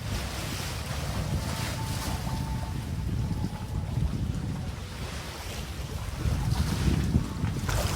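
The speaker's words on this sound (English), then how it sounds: "Just over a day out from Cape Town and sailing well. Both the main and the jib are up" A sailboat runs under mainsail and jib at five to six knots a day out from Cape Town, with steady wind roar, rushing water and surf wash along the hull, continuous and fairly loud with no voices.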